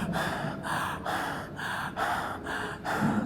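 A preacher imitates the gasping breath of a dying person: about six rhythmic, strained gasps in quick succession, close and fairly loud, with no speech between them.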